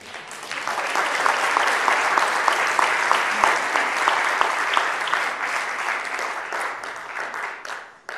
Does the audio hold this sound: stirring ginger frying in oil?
no